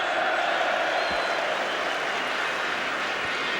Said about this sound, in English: there's a cheer from the West Ham fans for Alan Devonshire